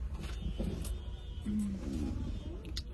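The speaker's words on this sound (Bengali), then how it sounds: "এটা ভলভো বাস, এটার টিকিট 1500 টাকা করে নিল।" A Volvo bus on the road, heard as a low, steady engine and road rumble with light rattles and a brief faint tonal beep partway through.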